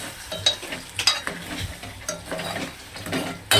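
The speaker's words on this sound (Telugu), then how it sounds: "కూర కలిపేసేదా, మళ్ళీ మాడిపోతుంది." A spoon scrapes and clatters around a cooking pot as curry is stirred, with uneven knocks against the metal over a steady sizzle from the pan, up close and without talk.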